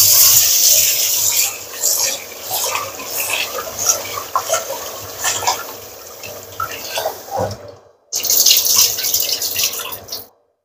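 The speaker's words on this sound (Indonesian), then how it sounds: "Aku kalau nyuci beras kayak gini itu 3-4 kali ya guys, sampai putih-putihnya itu hilang." Rice being rinsed in a bowl of water by hand, with continuous swishing, sloshing and dripping close by, a brief pause near the end before the splashing resumes.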